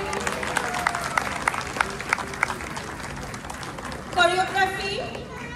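An audience claps for the cast and crew at a community stage performance of the dance drama Tasher Desh. Steady crowd applause rolls on beneath a presenter's voice and swells briefly near the end.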